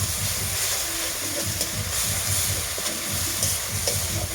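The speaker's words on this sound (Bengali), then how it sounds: "ভালোভাবে যেন এটা ভাজা হয়।" Tomato paste and spice masala fry loudly in a pan while being stirred, a dense continuous sizzle with rhythmic scraping strokes of a spatula, close and alone without speech.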